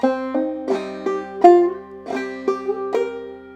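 Bright plucked banjo notes ring out in a bouncy clawhammer rhythm playing "Darling Corey," with brushed strums and a droning high string, played solo and up close.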